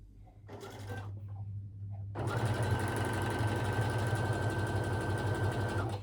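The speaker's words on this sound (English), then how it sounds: "I am now just going to stitch a couple of millimeters in towards the seam allowance. Still a zigzag, still back and forth at the beginning." A sewing machine runs a zigzag stitch along a trouser seam allowance, starting with a short burst, a pause, then a steady continuous whirring hum close by.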